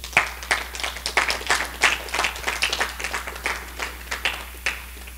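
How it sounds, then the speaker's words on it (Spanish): A church congregation claps for the Lord in a sustained burst of applause, with dense, uneven hand claps of moderate loudness and no speech over them. "Den un aplauso al Señor"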